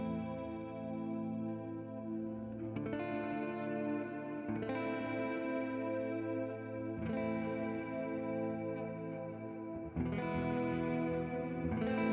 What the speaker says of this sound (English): I forgot I had my right reverb on.